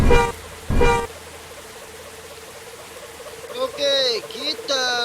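A steering wheel horn in the Bus Simulator Indonesia game, on a Hino bus, gives two short loud honks at the start, then someone speaks briefly over a low engine hum.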